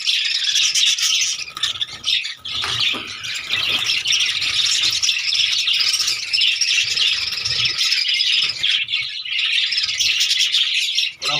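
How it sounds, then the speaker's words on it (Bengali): Many birds chirp and tweet continuously and close by, a dense busy chorus with occasional squawks, filling the whole stretch without talk. "আজকে আমি পাখিগুলো নিয়ে এসেছি পাখিগুলো আবার ছেড়ে দেবো এখানে"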